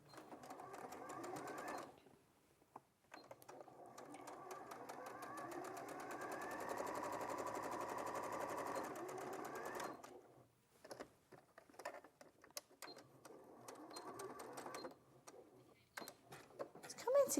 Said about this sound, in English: So last things we need to do is from the bottom and edge sewing from here to there.